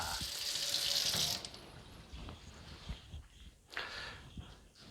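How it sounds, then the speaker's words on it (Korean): A kitchen sink faucet runs in a strong, loud hiss during a water pressure check after being hooked up to a newly installed electric water heater, then cuts off, leaving quieter splashes and handling sounds. "싱크대 한번 수압이 어느 정도 나는지 한번 테스트 해 볼까요?"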